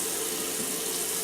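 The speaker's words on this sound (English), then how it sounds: "So I'm gonna get the water going, some nice lukewarm water" Lukewarm water pours steadily from a tap into a sink, a dense continuous hiss and splash heard close and alone for about a second.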